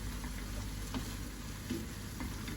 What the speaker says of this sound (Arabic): بعد ما قليت اللحمة شوي رح نزل ملعقة كبيرة من الزبدة النباتية